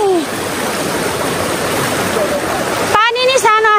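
A small village stream in Nepal rushes steadily with a dense, close hiss of flowing water; near the end a voice speaks briefly over it.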